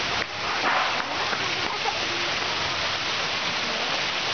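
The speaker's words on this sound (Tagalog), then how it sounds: "Ay, ang ganda ng falls." Steady broadband rush of a waterfall heard outdoors, continuous and fairly loud throughout with no clear pauses.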